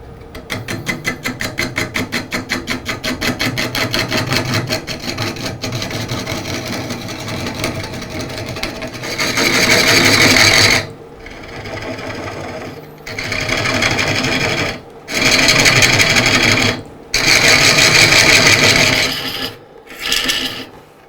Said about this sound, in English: right now we just want to clear out the wood and find some flat